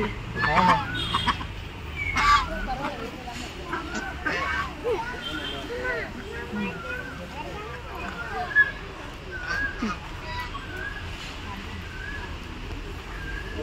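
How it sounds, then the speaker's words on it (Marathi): Ducks at a zoo honk and quack repeatedly amid a noisy hubbub of background chatter. "बदक आहे."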